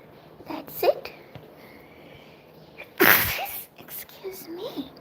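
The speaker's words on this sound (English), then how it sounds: "Oh, it's a big sneeze." A single loud, sharp human sneeze bursts out about midway, preceded by a quieter lead-in, amid a quiet indoor workspace during polymer clay crafting with some faint background sounds.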